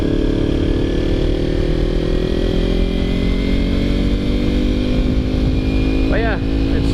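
A Kawasaki Ninja 300 motorcycle ridden along a road, its engine a steady loud drone with continuous wind rush throughout and a brief rising rev near the end.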